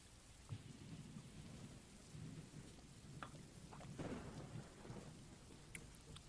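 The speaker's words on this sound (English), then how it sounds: "Even the sound of the rain outside isn't bothering me that much" Rain falls outside in the video game Doki Doki, a soft, distant wash of rainfall with low rumbling thunder underneath and a few faint drips, quiet throughout with no talking.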